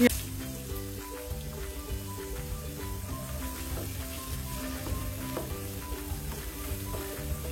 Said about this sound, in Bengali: পেঁয়াজগুলোকে কিছুক্ষণ ভেজে নেব।